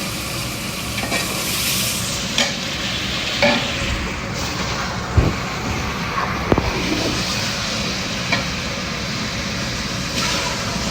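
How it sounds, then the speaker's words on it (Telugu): Chicken sizzles steadily while frying in a pan, and a spoon scrapes and knocks against the pan now and then as it is stirred. The sound is close and fairly quiet, with no talk. "చికెన్ ఫ్రై అంట చికెన్ వేస్తున్నారు"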